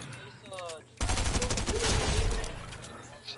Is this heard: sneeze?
no